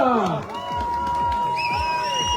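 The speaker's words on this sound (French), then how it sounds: "vous pouvez l'applaudir très fort, il vous salue" Spectators cheer and call out at the start of a stage of La Grande Odyssée sled dog race in Avoriaz, a loud, lively crowd roar with overlapping shouts and an announcer-style voice over the noise.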